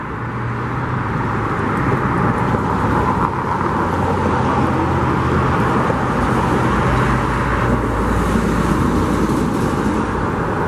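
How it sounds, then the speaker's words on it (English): A water truck driving along a dirt roadway at a stadium construction site, its steady engine drone blending with broad site and traffic rumble. The sound is continuous and moderately loud, heard from a distance. "you can see that water truck driving down there"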